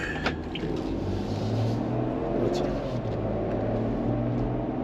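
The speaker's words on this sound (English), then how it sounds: "Road noise is a little loud because of the tires." Tire road noise fills the cabin of a Land Rover Defender while driving, a steady, loud low rumble and hum with faint engine drone underneath and no talking.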